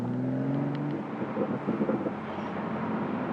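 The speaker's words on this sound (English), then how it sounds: "listen to the pops in this thing" A BMW Z4 M40i's engine tone fades as it decelerates, broken by a flurry of close, crackling exhaust pops in the middle, with no voices.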